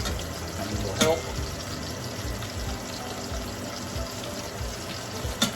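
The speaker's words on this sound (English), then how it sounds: "That's why a colander is really better for rinsing pasta than a strainer." Tap water runs steadily over rinsed pasta in a fine-mesh strainer, a constant close splashing hiss with a couple of brief clinks.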